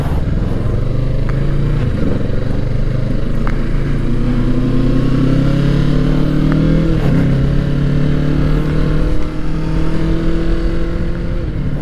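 A 2020 Kawasaki Ninja 650 engine drones loud and close, its pitch rising in long sweeps as it accelerates through the gears, with a brief dip between shifts.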